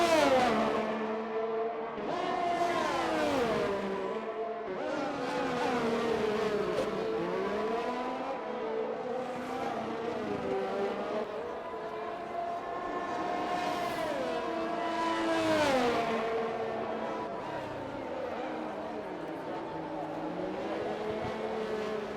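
Formula 1 race cars in a video game hold a low, droning engine note while running behind the safety car at the Canadian round, pitch sliding up and down as several cars shift and rev, with no voices.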